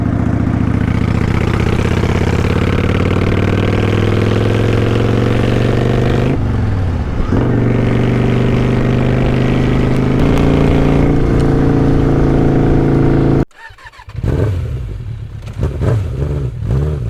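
A motorcycle engine runs loud and close during an easy evening ride. It holds a steady drone with shifting pitch, then cuts out abruptly near the end before returning more unevenly.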